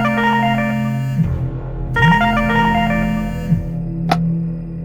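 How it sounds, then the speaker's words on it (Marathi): A phone rings with an incoming call, a loud electronic ringtone melody repeating in steady phrases with sliding tones, close and without speech. "बॉसचा त्याला फोन येतो."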